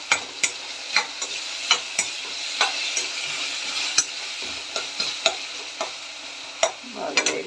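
Spices and tomato frying in a pan, a soft continuous sizzle broken by regular sharp scraping strokes of a spoon stirring, close up, with no talking.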